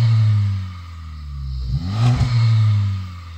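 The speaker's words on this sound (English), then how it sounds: "I'm going to rev up mine." A Honda Civic Type R engine revs up loud and close, rising to a sharp peak and settling back to a steady, droning high idle.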